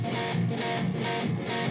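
Electric guitar chugging through a song's verse part at full speed, four quick strummed chord hits in a tight shuffle, close, bright and slightly driven.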